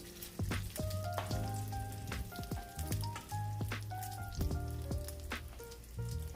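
Crab cakes about three inches across sit frying in a pan, giving a steady, close crackle and popping sizzle full of sharp spits and bursts, with no one speaking.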